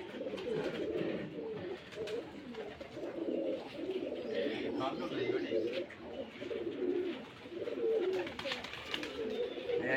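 Rajshahi Giribaj pigeons coo softly and repeatedly inside a farm loft, a low, continuous murmur of birds with faint voices somewhere in the background.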